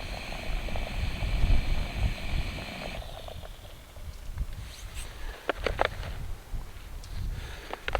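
A camping stove boils water at a wild camp on Hartsop Dodd in the Lake District, a steady close rushing roar for the first few seconds that then drops to quieter bubbling with a few sharp clicks and ticks.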